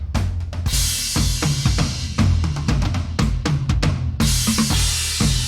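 A heavily processed drum loop made stereo from mono drums, with punchy kicks, snappy snares and bright hi-hats in a dense, loud, continuous groove and no talking.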